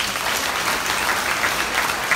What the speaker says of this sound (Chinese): 让我们再次以热烈的掌声，感恩根本和众上师圣真言，生活宝贵的法语